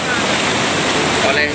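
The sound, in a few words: suddenly rising river with rushing water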